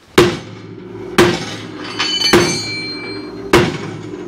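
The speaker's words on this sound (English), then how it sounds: "We're gonna result to a bigger hammer real quick." A big hammer strikes a tubular car control arm four times at slow intervals, each blow a sharp, loud metallic clang with a ringing tail, close by in a garage.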